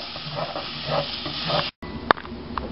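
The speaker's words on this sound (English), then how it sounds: "you have to constantly stir it" Mutter paneer being stirred in a hot pan, a steady loud sizzle with scraping stir strokes throughout, a brief drop-out and one sharp clink near the end.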